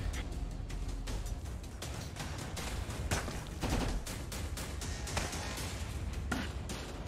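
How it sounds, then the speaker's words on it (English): Gunfire in a VR shooting video game: dense, rapid bursts of shots crackle continuously, loud and layered like a fusillade, with no clear gaps or talking. "I don't know who's shooting me"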